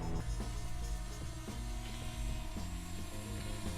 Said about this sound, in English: That plane's pretty low.